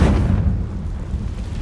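Confringo fire spell exploding in the game Hogwarts Legacy: a single loud, heavy boom at the start that rumbles and fades over about a second and a half.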